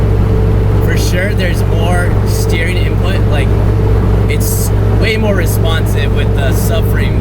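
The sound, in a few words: car driving on the highway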